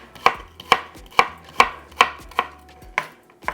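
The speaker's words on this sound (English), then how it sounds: "Or if you want, you can chop some fresh onion." A knife chops fresh onion on a cutting board in eight crisp, evenly spaced strokes, close and clear with no talk.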